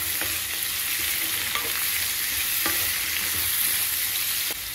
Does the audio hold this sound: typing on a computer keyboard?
no